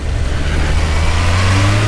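A Kawasaki H2 motorcycle engine warming up, its loud, close, low throbbing idle rising into a steady higher rev toward the end, with no voices.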